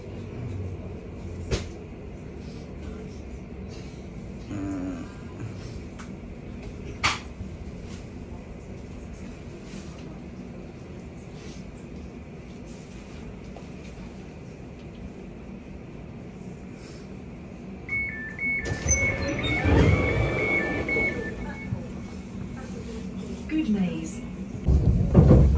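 Interior of a London train on a rainy day, a steady low rumble of carriage noise with occasional clunks, building louder near the end as the train moves off, with someone talking over it.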